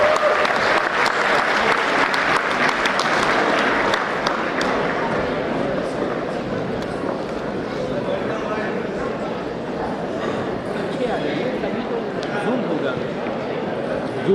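A crowd at an Independence Day community gathering in New Zealand claps in sustained, dense applause. Voices chatter throughout and a dog yaps here and there.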